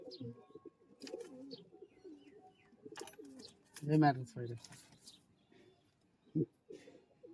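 Giribaz pigeons in Murshidabad coo softly and repeatedly at a distance, with a few faint chirps mixed in and quiet human sounds around them.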